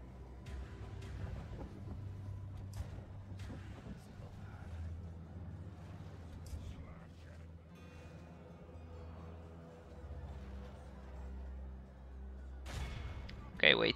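Battle gunfire and artillery-like booms from units fighting in the Third Age: Total War video game, with repeated thuds and cracks layered over a rumbling din while a person talks over it.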